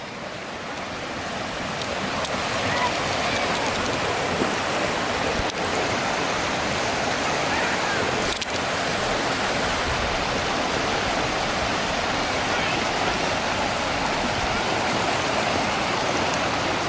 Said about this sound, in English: And at the top of the waterfall,